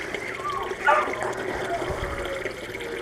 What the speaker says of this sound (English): we're filling the bucket up, which has got the litre marks inside